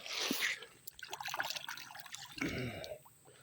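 Creek water splashes and trickles as a found choker is rinsed off, a close, continuous wet rush with a couple of stronger splashes, no talking.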